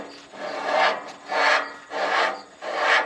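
Buildup is scraped off the band wheel belt of a Wood-Mizer LT35 portable bandsaw sawmill in four steady, rasping back-and-forth strokes, close and fairly loud, with no voices.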